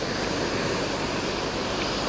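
Ocean surf on a Miyagi coast near a breakwater, a loud, steady wash of breaking waves mixed with gusting wind buffeting the microphone, continuous with no voices.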